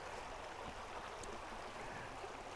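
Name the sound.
small creek running down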